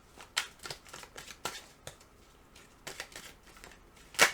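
Tarot cards are shuffled by hand in a series of quick riffling bursts and soft slaps, close and fairly quiet, ending in a sharper snap.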